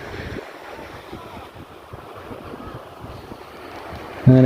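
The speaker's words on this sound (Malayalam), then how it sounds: "ആളുകളും ഈ കടൽ തീരത്തും വരുന്നുണ്ട്" Waves wash steadily onto a sea shore beside a church while wind buffets the microphone, a continuous broadband roar that lasts throughout, with a loud gust near the end.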